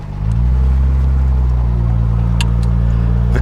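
A 1965 Jaguar XKE Series I 4.2 roadster pulls away, its engine rising to a loud, steady, close drone that holds evenly throughout, with no talking over it.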